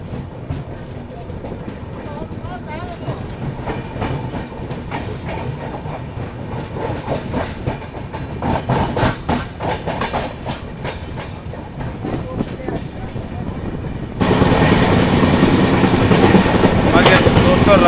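Poorva Express train running at night as it approaches Mughal Sarai station, with continuous rumbling and rhythmic wheel clatter over rail joints, growing to a louder, harsher roar near the end.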